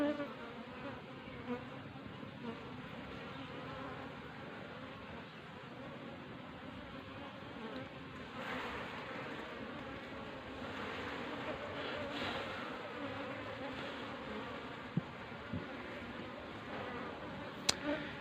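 Aggressive farmed honey bees swarm around their hive, a constant close buzzing drone with individual insects zipping past the microphone, low talk faintly beneath.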